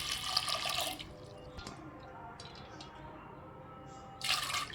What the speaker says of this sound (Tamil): தண்ணி ஒரு ரெண்டு டம்ளர் ஊற்றிக்கலாம் பருப்பு வேகத்துக்கு